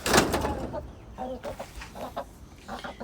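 Chickens clucking near a newly built coop, with short repeated clucks and calls at close range over a few seconds, mixed with faint background noise.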